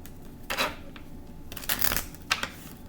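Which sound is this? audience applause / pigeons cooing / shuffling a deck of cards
shuffling a deck of cards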